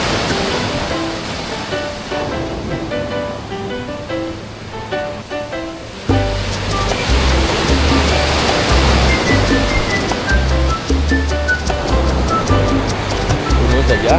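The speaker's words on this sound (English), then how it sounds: "This is Madagascar Beach." Ocean surf on Madagascar Beach near Puerto Vallarta, a continuous loud wash of waves with wind buffeting the microphone and a sudden surge midway, with music playing underneath.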